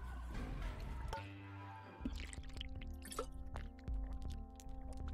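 Water drips in The Binding of Isaac game, a series of quiet, sharp plinks scattered over a droning game soundtrack.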